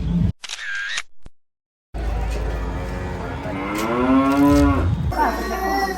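A cow moos loudly and close by in an Indian village, one long drawn-out bellow after a few camera clicks and a brief silence, with faint voices nearby.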